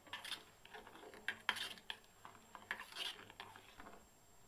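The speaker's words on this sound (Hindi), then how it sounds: "तो हम चीनी भी डाल देते हैं। हम इसको चलाते रहेंगे।" A spoon scrapes and clinks against a metal pot while paneer kheer with sugar is stirred, soft irregular taps and rubbing strokes, close and fairly quiet.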